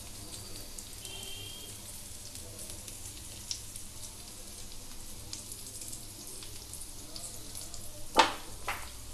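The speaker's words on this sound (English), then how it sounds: "place the kebabs on the frying pan like this and brush the kebabs with" Chicken tikka kebabs fry in ghee in a pan with a faint, steady sizzle and crackle, broken by one brief louder clatter near the end.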